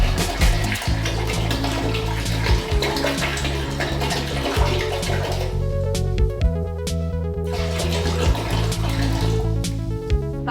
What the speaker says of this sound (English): just go directly into pouring the vinegar into the toilet